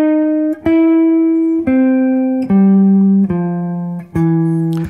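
Jazz blues chords on guitar, six sustained strums in a steady sequence, each ringing clearly before the next attack, close and loud with no talk.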